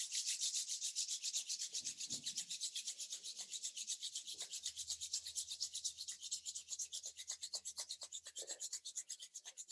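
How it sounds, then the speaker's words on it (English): Palms rub together during a hatha yoga session: quiet, steady rhythmic swishing strokes, close and soft, with no talk. "rub your palms."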